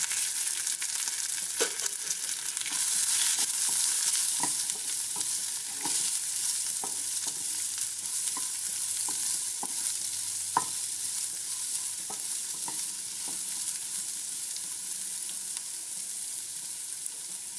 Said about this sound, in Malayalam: ഉള്ളി നന്നായിട്ട് മൂത്ത് വന്നിട്ടുണ്ട്.